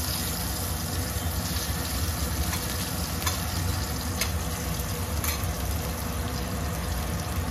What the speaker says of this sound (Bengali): সেই আলুগুলোকে এবার এই কড়াইতে দিয়ে ভেজে নেব